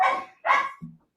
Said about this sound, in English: Hear my dogs barking like freaking crazy. Rottweilers.